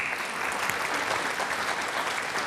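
A round of applause from a conference audience, dense and sustained clapping at even loudness throughout with no talking.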